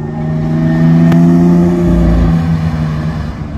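A Lamborghini Aventador SVJ supercar engine revs on a Paris street, a loud, close, droning growl that swells and holds for a few seconds before easing off.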